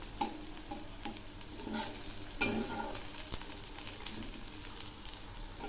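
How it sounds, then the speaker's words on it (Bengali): Onions fry in a pan for a potol bharta, a low continuous sizzle broken by several sharp scraping stirs of a utensil against the pan. "পেঁয়াজ ভাজা হয়ে গেছে।"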